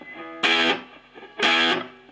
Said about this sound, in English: I'm using distortion on my guitar, and that's using my Marshall amp, and it's a valve amp